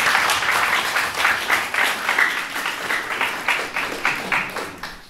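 An audience in a hall gives a round of applause for teacher Victor Ciochina, a sustained, fairly loud burst of many hands clapping that rises and falls in waves.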